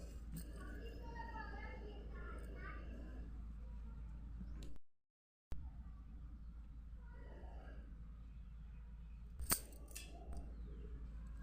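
Scissors make a single quick, crisp snip through macrame thread near the end of the passage, while someone speaks softly over a quiet room beforehand.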